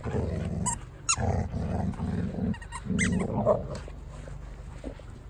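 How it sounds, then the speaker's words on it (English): A dog growls in low, rumbling bursts during a tug of war with another dog, close up, with a few sharp higher yips and scuffling between the growls. "There's Rex growling."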